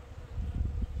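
Honeybees buzz in a low, steady drone inside a hive box, a close, muffled hum of many bees swelling slightly over a brief moment.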